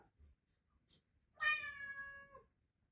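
A single clear, close meow from a cat, lasting about a second, strongly harmonic with a falling end, heard alone in a quiet room.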